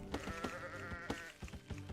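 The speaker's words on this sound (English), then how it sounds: "2 sheep remaining." Sheep in a medieval real-time strategy game bleat several times in quick succession, clear and close, with no talking.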